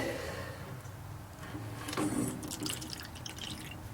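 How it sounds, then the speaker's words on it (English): Phosphoric acid is poured out in a short trickling splash during restoration work on a rusty 1956 VW Beetle, faint and close, with no talking. "Let's go ahead and get that phosphoric acid on here. Pour me out a little bit."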